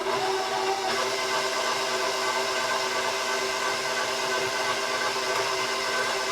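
A KYS Pro Baker 7+ spiral mixer runs steadily, kneading pizza dough with a constant, even whir and hum that holds at one level throughout, close by and alone with no talking.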